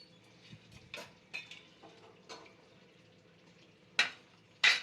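Flour being stirred into hot sugar syrup in a pan for Bombay halwa, soft scraping and stirring strokes near the mic with a few sharper clinks of a spoon against the vessel.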